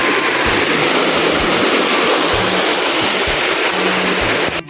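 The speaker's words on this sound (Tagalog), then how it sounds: "Lagos-los ng tubig." Steady, loud rush of water pouring down a recently popular waterfall, a continuous broadband roar with no talk, filling the whole stretch and cutting off abruptly at the end.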